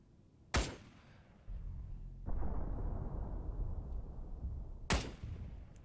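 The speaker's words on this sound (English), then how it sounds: "I can hear the explosions from here." Arma 3 battlefield with two sharp, loud explosive blasts from artillery fire several seconds apart, a lower rumbling roar of distant combat filling the gap between them.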